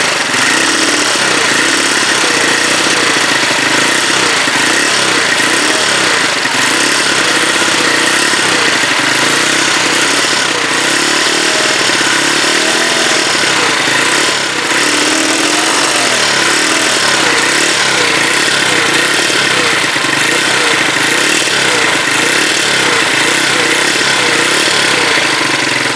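A Huoniao HN125 motorcycle engine, newly installed and not revving cleanly, runs continuously, loud and close, with a rattly, buzzing, slightly uneven putter throughout.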